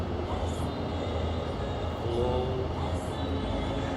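A train in Microsoft Train Simulator rumbles and rolls with steady low mechanical noise and faint squealing tones as the handbrake is applied, with a voice talking over it.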